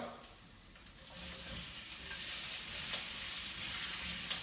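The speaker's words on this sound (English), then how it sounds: "we're going to start off by adding the stalks of the bok choy" Bok choy stalks dropped into hot oil with minced garlic and slit chili, the sizzle swelling from a quiet start into a steady, bright hiss that holds close and even, with no voices.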